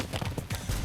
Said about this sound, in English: Meet Dante and Cuba, both Lusitano horses from Portugal.